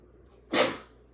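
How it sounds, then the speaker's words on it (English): A single sharp sneeze bursts out close to the mic after a moment of quiet, then trails off into a breathy fade. "So I just sneezed."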